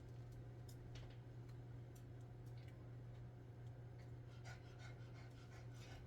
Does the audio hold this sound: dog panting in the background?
yes